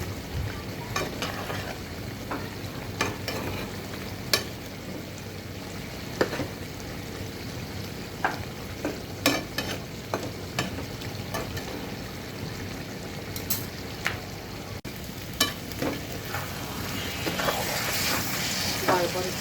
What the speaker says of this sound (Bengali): এবারে ভাজা ভাজা করে ফেলবো এটাকে